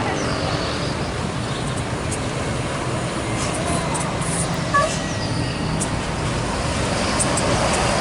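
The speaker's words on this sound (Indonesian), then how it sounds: "bus yang keenam masuk dari Jakarta pada siang hari ini." An ANS intercity bus from Jakarta pulls into the Baraya Solok bus terminal. A steady, fairly loud rumble of engine and road noise fills the whole stretch, with no clear change in level.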